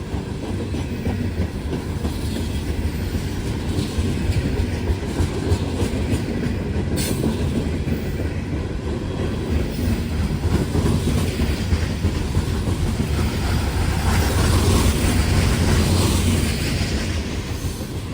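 Freight train rail cars rolling steadily past nearby at Elkhart, a continuous loud rumble with rhythmic clickety-clack of wheels over rail joints and no talk.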